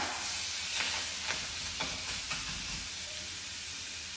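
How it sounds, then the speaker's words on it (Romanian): Duck breast seared meat side down in a hot pan, a continuous loud sizzle and hiss with a few short sharp crackles or stirring scrapes spaced about half a second apart, with no voices. "vasul nostru este încins și este pregătit să facă crustă la pieptul nostru de rață. Punem prima dată pe partea cu carnea."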